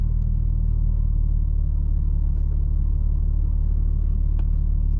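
A 2022 BMW M4 Competition coupe engine held at a steady, loud, rumbling idle-to-rev drone with the brake held for launch control, continuous and close with no talking.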